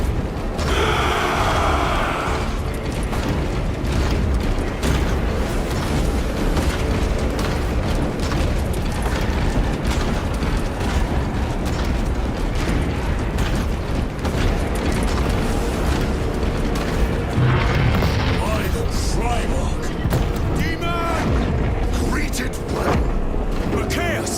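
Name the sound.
gunfire and explosions from Warhammer 40,000: Space Marine 2 video game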